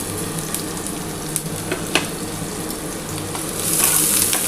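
Steady crackling sizzle of onion frying with cumin in a little oil, with occasional stirring scrapes and pops, close and continuous.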